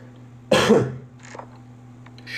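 A single hoarse cough or throat clear from a man playing Last Day on Earth, loud and close, with a faint hum of game sound underneath.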